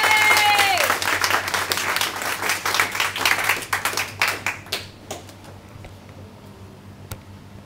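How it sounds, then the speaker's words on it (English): An audience applauds poet Mandy Maxwell at a poetry night, dense clapping that starts loud and thins into scattered claps before fading out, with a voice faintly over the start. "So big round of applause for Mandy Maxwell"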